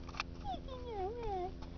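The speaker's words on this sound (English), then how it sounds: "This my little kitty." A pet cat gives one drawn-out, wavering meow that rises and falls, fairly close and moderately loud against a low steady background hum.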